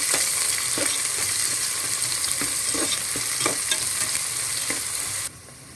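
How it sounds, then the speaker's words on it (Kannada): Three sliced onions sizzle in a pot for chicken biryani while a spoon stirs them, scraping in short irregular strokes over a steady hiss before the sound drops away abruptly near the end. "ಇದನ್ನು ಕೂಡ ಇವಾಗ ಒಂದ್ಸರಿ ಚೆನ್ನಾಗಿ ಮಿಕ್ಸ್ ಮಾಡ್ಕೊಳ್ತಾ ಇದ್ದೀನಿ"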